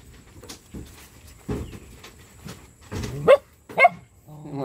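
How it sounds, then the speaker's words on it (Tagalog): Puppies give small yips and barks, a few scattered sharp calls that grow louder toward the end, along with faint whimpers and birds chirping in the background. "Yan ang cute na mga tuta Tatay Willie"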